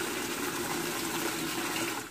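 Water gushing steadily into a previously leaking, resealed tank, a loud continuous rushing pour that holds for the whole stretch and tapers only at the very end.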